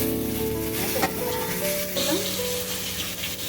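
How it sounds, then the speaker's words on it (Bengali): Eggplant and potato pieces sizzle in hot oil with nigella seeds in a home kitchen pan, a steady close crackling frying hiss with some faint clinks and background sounds. "বেগুন আর আলুটা একটু ভেজে নেব।"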